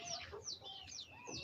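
A young 4.5-month-old local rooster gives faint, high, squeaky calls and chirps, several short rising and falling notes in quick succession with no talk.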